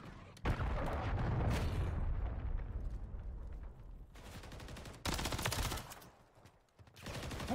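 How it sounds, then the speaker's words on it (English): A cruise missile strike in a first-person shooter video game lands as a series of booming explosions and bursts of gunfire, with loud blasts separated by quieter rumbling stretches. "Friendly cruise missile deployed."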